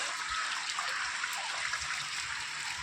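Floodwater rushes through a flooded market street in Jhanjharpur, a steady close wash of flowing water with no break and no voices.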